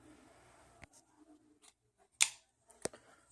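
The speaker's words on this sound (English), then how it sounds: "Let me just get my unboxing knife and cut this." Unboxing knife slicing open a cardboard accessory box for a Hyper TX3 cooler, a few quiet sharp cuts and scrapes with short pauses between, close by and without talk.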